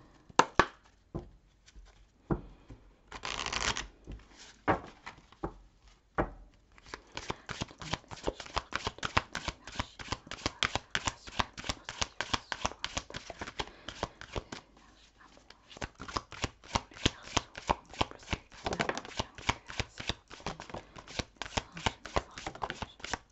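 Tarot cards are shuffled for a love reading, with a dense flicking, riffling rhythm that starts hesitantly and then runs steadily and close for most of the stretch, with brief spoken words early on.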